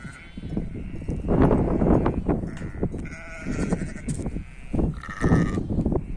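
A flock of sheep bleats repeatedly at close range on a livestock farm, overlapping calls rising and falling, with faint hoof and movement noise underneath.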